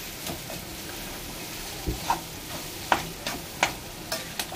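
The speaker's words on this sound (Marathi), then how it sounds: "आता आपण पूर्ण भाजी तेलामध्ये मस्त फ्राय करून घेऊया" Potato bhaji fries in oil in a pan for Mumbai-style vada pav, a soft steady sizzle with scattered spoon taps and scrapes growing more frequent toward the end, with no talk.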